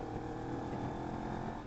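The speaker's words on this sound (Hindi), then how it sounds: "मेरी मोटरसाइकिल में अजीब सी आवाज़ आ रही है" A motorcycle engine runs steadily on a mountain ride, making an odd, rough noise from an aging machine; a continuous, moderately loud drone with no talk.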